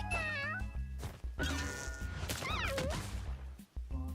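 A cat growls and snarls at another cat in the Mewgenics video game, with a series of close, warbling, pitch-sliding feline vocal sounds over a low, steady background.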